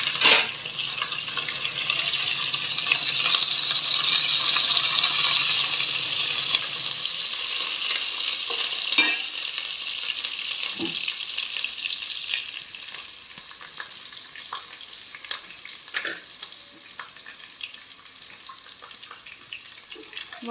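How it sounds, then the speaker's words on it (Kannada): Curry for a hot, spicy fish sambar fries in a pan with a loud, steady sizzle for about seven seconds, then settles into a softer crackle with occasional stirring taps. "ಸ್ವಲ್ಪ ಫ್ರೈ ಆಗಬೇಕು."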